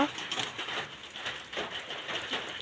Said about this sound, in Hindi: सकालू न वर्षा आसूचे आके वर्षा आउचे जे देख